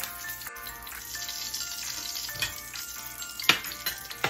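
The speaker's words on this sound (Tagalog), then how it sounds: "niluluto ko muna siya para medyo fry yung hot dog" Hot dog frying in a pan for pork caldereta: a steady close sizzle and crackle of hot oil, with faint stirring clinks and a couple of sharper taps, and no talking.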